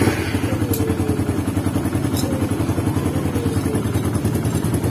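A motorcycle engine runs at a steady idle just after a camshaft was fitted, its rapid even chugging continuous and close throughout, with light mechanical clatter on top.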